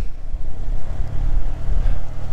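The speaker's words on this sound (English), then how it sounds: "It's a bit breezy today, so I'm being caught by the wind." Strong breeze buffets the microphone aboard a small boat on a river, a loud continuous low rumble with gusting swells and no voices.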